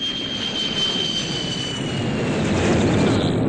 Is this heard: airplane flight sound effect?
yes